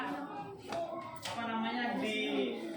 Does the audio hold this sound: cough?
no